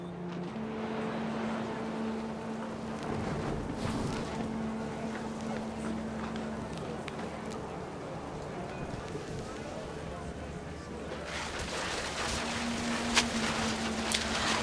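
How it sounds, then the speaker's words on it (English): Heavy rain pours down in the What Remains of Edith Finch video game as a steady, dense hiss. It is even and continuous throughout, with a low droning tone running underneath. "The rain came down in buckets then"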